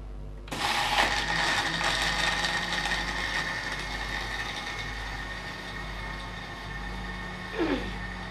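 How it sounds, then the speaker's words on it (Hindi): A kitchen blender crushes ice into a cauliflower, carrot, green pea and dry fruit shake. It starts abruptly into a loud, continuous grinding whir that runs steadily to the end, with no talking. "सिक्सटी टू 80 सेकेंड ज़रूरी है इसको ब्लेंड करना, ताकि सारी जो बर्फ़ है वो बिल्कुल अच्छी तरह इसमें घुल मिल जाए।"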